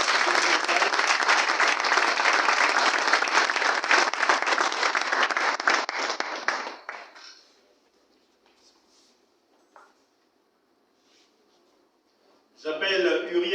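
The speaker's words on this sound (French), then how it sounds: "sur vos acclamations, s'il vous plaît" An audience at a Gabonese normaliens network launch ceremony bursts into applause for about seven seconds, dense clapping that cuts off into near silence before a brief burst of sound returns at the end.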